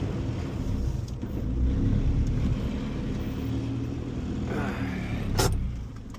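Idling engine of a 1996 Honda Civic hatchback with a swapped B20B, a steady low rumble running throughout at close range, with a brief sharper burst near the end.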